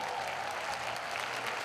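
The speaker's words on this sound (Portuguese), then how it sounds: "As palmas de vocês para as Irmãs Barbosa!" An audience applauds a Brazilian singing duo of sisters on a television show, a dense, even burst of clapping that holds steady at moderate loudness, with no talk over it.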